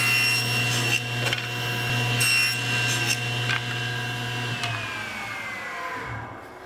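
Table saw running while tiny wood parts are crosscut on a crosscut sled, a steady motor whine with brief cutting bursts before the blade spins down at the end.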